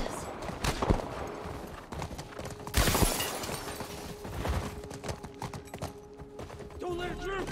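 Faint, scattered hoof thuds of a galloping horse in The Last of Us under busy game noise, with sharp gunfire-like cracks and a voice shouting near the end.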